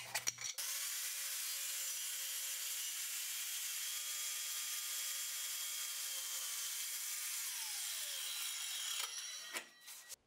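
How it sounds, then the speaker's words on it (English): Wood being cut with a hand saw or circular saw, a steady continuous bright buzzing cut that holds for about nine seconds before dying away, loud and close with no talking. "you can use your hand saw or your circular saw for most of your cuts."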